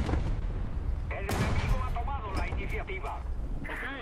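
In the War Thunder video game, an 8.8 cm Flak 37 self-propelled gun fires several booming shots mixed with other battle noise, while someone talks continuously over the gunfire.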